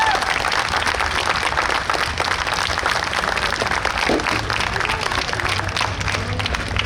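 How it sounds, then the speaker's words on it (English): Outdoor audience at a New York State Police special operations exhibition applauding, dense continuous clapping from a crowd lasting throughout, fairly loud and steady. "we think it's those guys that deserve a real round of applause this afternoon"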